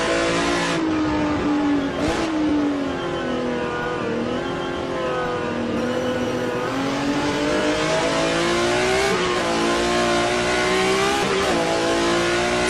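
A BMW M1 Group 5 race car in a virtual historic sportscar race at Mid-Ohio, heard from the cockpit: a loud, continuous engine howl that rises and falls through gear changes and revs with no break.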